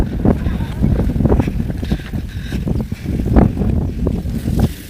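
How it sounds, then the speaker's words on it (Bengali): During a storm at a Pohela Boishakh fair, strong gusting wind buffets the microphone with a loud, rumbling roar that surges and dips throughout, mixed with rain noise, while a person speaks over it. "বৃষ্টি আর বাতাস আল্লাহ রক্ষা করো"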